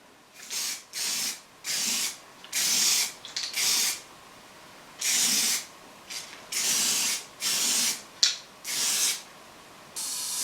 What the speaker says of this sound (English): Now I'm going to give it some white primer